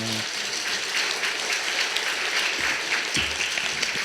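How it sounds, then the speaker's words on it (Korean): A church congregation claps to welcome the elder pastor to the pulpit, a steady, dense applause from a large room continuing throughout with little else. "우리 목사님 나오실 때 하나님께도 영광의 박수, 목사님께도 환영의 박수 드리겠습니다"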